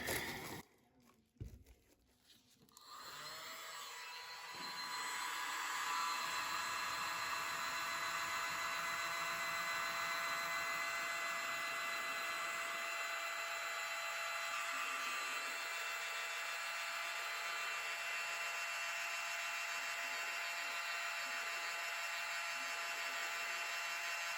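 A small handheld mini blower whirring steadily and loudly for over twenty seconds while blowing across wet acrylic paint, after a brief fumbling start with clicks.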